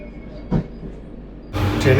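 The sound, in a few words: Vande Bharat Express train departing Tatanagar Junction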